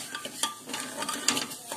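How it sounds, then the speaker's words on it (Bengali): Mung dal being fried and stirred in a pan, with scattered scraping clinks of a spoon against metal and a faint sizzle underneath, fairly quiet and close. "এখানে মুগের ডালটা ভাজছি এখন"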